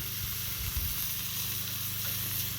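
Chorizo and eggs sizzle steadily in a pan for a home breakfast, a continuous close crackling hiss with low bubbling and no voices.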